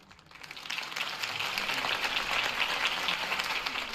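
Crowd applause at a political campaign rally in the Batman Telltale video game, a steady, fairly faint wash of many hands clapping that swells in quickly and holds throughout.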